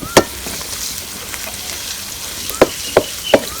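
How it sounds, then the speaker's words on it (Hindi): Soft crackling sizzle of green chilies and garlic frying in oil, with a few sharp metallic clinks of a utensil stirring the pan close by. "थोड़ा सा हम मिर्च को भूनेंगे। शामिल करेंगे सब्ज़ मिर्च और लहसुन।"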